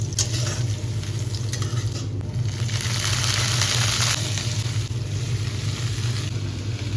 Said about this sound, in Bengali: কড়াইতে সর্ষের তেলে ছোট ছোট করে কাটা বেগুন লবণ হলুদ দিয়ে ভেজে তুলে নেওয়া হচ্ছে।